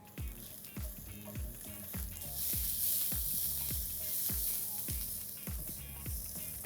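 Sliced onion with a pinch of salt sizzling in a pan, a steady hiss broken by repeated sharp stirring clatters, the sizzle swelling louder partway through, with no voice.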